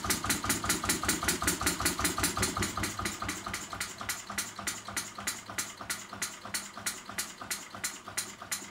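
A 12 cc true diesel model engine runs steadily, giving a rapid, even train of sharp firing knocks that slows slightly partway through, close and loud with no talking.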